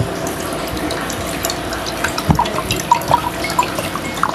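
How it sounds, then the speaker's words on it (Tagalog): Tap water trickles and drips into a drinking glass at close range, with a soft running wash and scattered splashy drips growing busier toward the end, and no voices. "Maglagay muna po kayo ng tubig sa baso."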